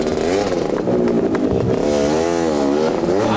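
Motorcycle engine running steadily after being refuelled with two-stroke blue petrol at a 1998 fuel launch event, a loud continuous drone with wavering pitch and clattering mechanical texture throughout.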